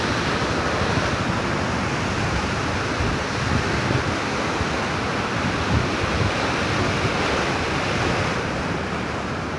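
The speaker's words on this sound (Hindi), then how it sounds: "ये देखें, ये गेटों के नीचे से पानी आ रहा है यहाँ पर, ये बाकायदा झाल बनी हुई है।" Canal water rushes steadily out from under sluice gates at a weir on the Head Sagar Canal, a loud, continuous broadband roar with no pauses and no voices.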